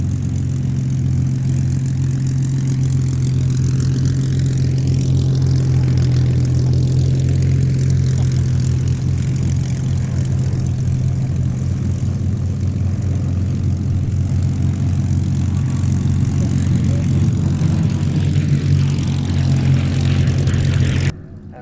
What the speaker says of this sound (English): Now running in to start their display, we have our formation of 3 North American P-51D Mustangs led by a 2-seat dual-control TF-51D variant